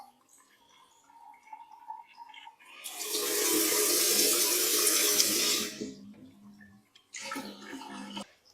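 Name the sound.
water running from a ceramic disc tap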